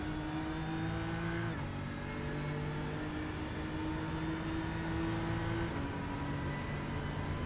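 GT3 race car engine at the Red Bull Ring in a racing video game, a steady droning note held at partial throttle, with two quick gear-change shifts in pitch partway through.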